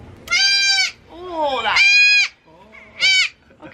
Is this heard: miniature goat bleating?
yes